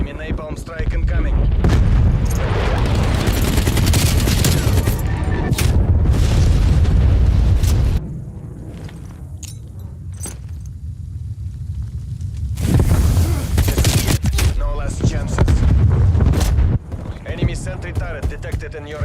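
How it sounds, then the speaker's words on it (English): Napalm strike in a video game: heavy rumbling booms and sustained roaring blasts surge loudly, ease into a quieter rumble, then swell again with more crackling detonations, with game voice lines heard. "Enemy napalm strike incoming."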